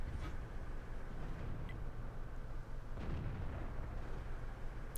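A tank cannon shell strikes the side of a Pz.Kpfw.IV in World of Tanks, heard as a low, dull impact boom about three seconds in over a steady engine rumble and battle noise.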